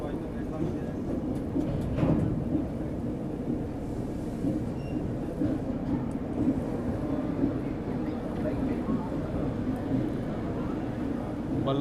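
A train crossing at night, heard from a distance as a steady low rumble with rail clatter, continuous throughout under faint background sound.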